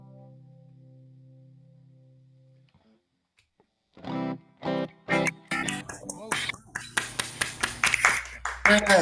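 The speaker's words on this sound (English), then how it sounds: "It sounds very strange coming out of my speaker, and then I realized it was you applauding, John" A few hand claps come through a speaker over an online call, sounding distorted and echoey, arriving as uneven sharp bursts after a fading musical tone and a short silence, with talk mixed in.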